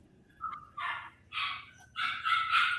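Several dogs bark in short, loud bursts, four or five sharp barks in quick succession, close by and with no talking over them.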